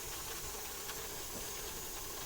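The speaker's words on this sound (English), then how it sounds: "I don't know if you can see the steam coming out of that." A pressure canner holding potatoes vents steam in a steady, close hiss that fills the whole short stretch with no talk over it.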